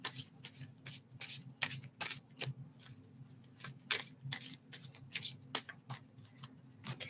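A deck of oversized cards being shuffled by hand: a steady run of crisp riffling flutters and soft slaps, close and fairly loud, with a low hum underneath and no talking.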